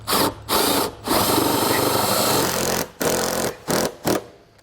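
A handheld power drill drives bolts into the arm bracket of an 18V electric awning on a 2005 K-Z New Vision Solera RV, several close whirring bursts of varying length separated by brief pauses.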